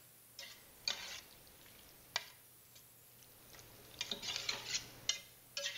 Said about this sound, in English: I'm just going to stir it a little bit in